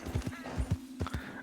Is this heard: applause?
no